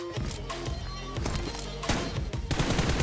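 Rapid automatic gunfire in PUBG Mobile, loud and close, coming in several quick bursts of rattling shots one after another.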